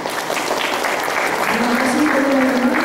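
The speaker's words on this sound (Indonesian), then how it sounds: "Tepuk tangan untuk mereka." A live audience at a literary talk event claps steadily for four speakers, a dense, continuous applause with a voice briefly audible near the end.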